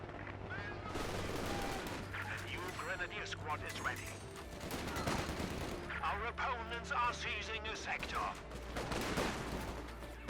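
Rifle and machine-gun fire crackle steadily through a Company of Heroes 2 battle, bursts of shots layered with explosions and battlefield noise, while a commentator talks throughout over the fighting.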